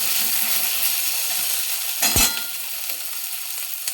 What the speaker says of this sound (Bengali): মশলাটা কষানো হয়ে গেছে, দেখুন তেল ছাড়তে লেগেছে।